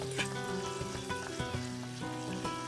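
Creamy garlic prawn tails crackle and sizzle in a hot pan, a steady close frying hiss with small pops throughout and no voices.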